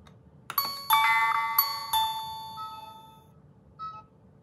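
A Tuya smart video doorbell chimes a bright ding-dong melody of several ringing tones that fade out, then a faint single ding near the end, in a quiet room.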